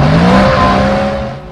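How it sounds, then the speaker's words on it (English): A loud, close BMW engine roaring through a performance exhaust with sports catalytic converters, a deep exhaust note, revving steadily and then easing off slightly at the end. "the all-important engine roar"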